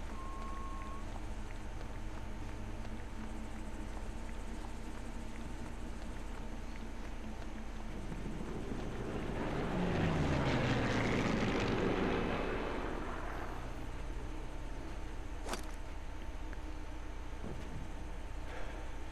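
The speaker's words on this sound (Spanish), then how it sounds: "Los aviones pasan cada poco rato, así que voy a tener bastantes oportunidades de disparo." A propeller aircraft flies over in the Sniper Elite 3 video game. Its drone swells from a faint background hum to a loud, sweeping pass and then fades away, with no talking.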